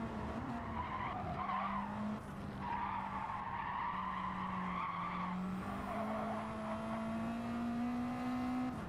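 A race car's rear tires skid and smoke, squealing in a sustained rising whine over the engine's drone, close and continuous for nearly nine seconds with no voices.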